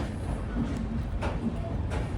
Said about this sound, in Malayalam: ട്രെയിൻ ഇപ്പോൾ രാജ്യ തലസ്ഥാനമായ ന്യൂഡൽഹിയിലേക്ക് ഇതാ എത്തുകയാണ്